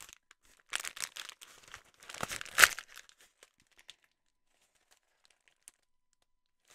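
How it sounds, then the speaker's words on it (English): A sheet of paper is crumpled by hand while making a beginner journal, close, crisp crinkling bursts in two main clusters, then a few faint isolated rustles fading into near silence. "What you want to do also is you want to crumple this up."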